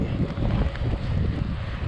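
Wind roars steadily across the microphone of a cyclist riding into a headwind, a loud, continuous low buffeting with no talk.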